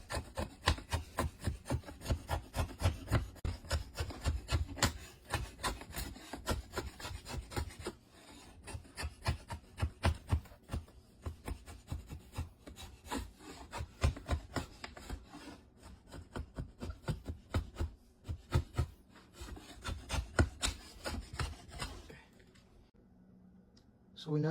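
A blade scrapes down the limbs of a wooden kids' bow being made, steady rapid rasping strokes close to the listener, with short pauses and a quiet stretch near the end.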